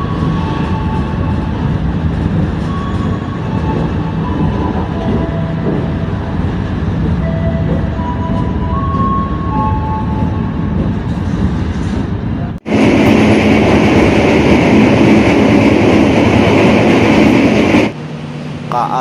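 The Jaka Tingkir passenger train rumbles along at night after leaving Kutoarjo station in Purworejo, a steady loud interior roar that suddenly turns harsher and louder partway through, then eases slightly near the end.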